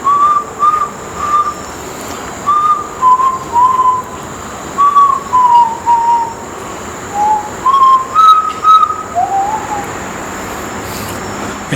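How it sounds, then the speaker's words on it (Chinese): A person whistles a tune outdoors in a string of clear, wavering melodic phrases with brief breaths between them, and faint traffic hums in the background. "其实吹口哨比我想象中还要累哦"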